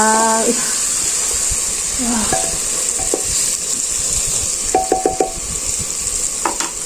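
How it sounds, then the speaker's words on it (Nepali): Spicy masala frying in a pan over a village-style wood-fired chulo for pork curry, a steady hiss with soft stirring scrapes and a few clinks, close and fairly loud, with a voice speaking at moments over it. "मजाले मसला पाक्दैछ है साथीहरू"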